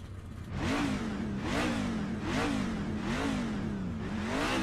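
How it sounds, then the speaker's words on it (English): A race car engine in the iRacing simulator revs repeatedly at Monza, Nurburg or Le Mans, five rising and falling throttle blips in a steady rhythm, loud and continuous with no talk. "Rev your engine."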